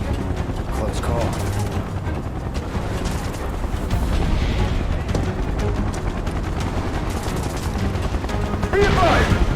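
Sustained in-game gunfire from Final Fantasy VII Remake, a dense continuous barrage of rapid shots with booming impacts, loud and steady throughout, with game voices shouting over it.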